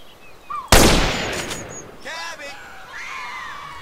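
A sniper rifle from a GTA San Andreas weapon mod fires a single loud, sharp shot with a rolling tail, while someone speaks Portuguese before and after it.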